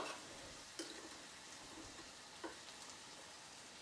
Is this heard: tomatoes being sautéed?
yes